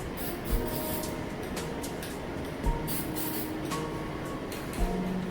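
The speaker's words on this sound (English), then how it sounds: "Now take this cheap white spray paint." Cheap white spray paint hissing from a can in a steady continuous spray, broken by a few brief louder bursts, close by with no speech.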